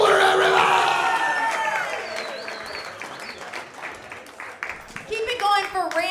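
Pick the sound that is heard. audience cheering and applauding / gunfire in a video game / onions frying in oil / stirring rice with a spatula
audience cheering and applauding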